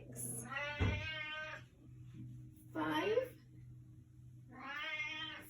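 A cat meows three times, loud and close, the calls spaced evenly apart, with a person counting aloud in the background and a steady low hum running underneath.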